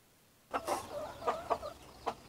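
Several short chirpy peeps from young KUB chicken chicks in a box, close by, spaced irregularly over a low background hum.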